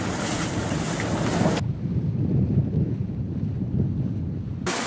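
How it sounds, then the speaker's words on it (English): Wind rushes and buffets the microphone over a low roar of water around a sailing boat under sail without engine, about 20 knots of east wind, moving 5.5 to 6 knots, steady and loud, with no talking. "Just the wind."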